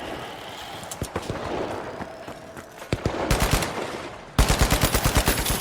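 Rapid gunfire fills a match of the video game The Finals, starting with scattered single shots and swelling into loud, evenly spaced automatic bursts near the end, with no talk over it.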